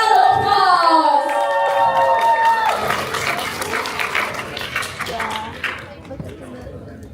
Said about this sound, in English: Let us all invite them to the stage with a big round of applause.